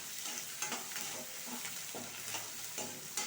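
Onion, curry leaves and chillies fry in a pan with a soft, steady sizzle, broken by regular scraping stirs about every second; quiet and close, with no voices.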